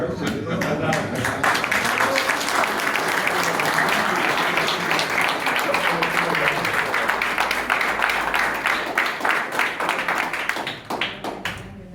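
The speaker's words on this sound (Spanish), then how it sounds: "Aplaudimos." A crowd claps at a book presentation, dense continuous applause filling the room for several seconds before thinning into scattered claps near the end, loud and close.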